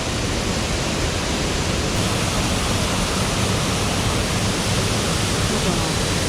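Steady, dense roar of rushing water at Nabegadaki waterfall, loud and close amid heavy spray, constant without pause, like a powerful waterfall crashing nearby.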